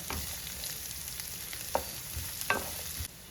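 Shallots sauté in a pan with a soft, steady sizzle, and a utensil scrapes through them in a few short stirring strokes.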